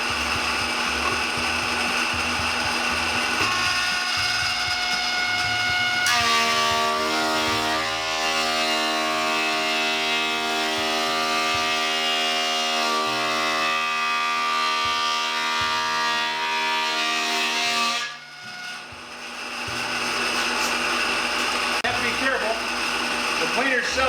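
A self-feeding power planer runs on a pallet board, first idling with a rattling whine, then loading into a loud, steady, tonal roar as the board passes through for about twelve seconds before dropping back to a running hum.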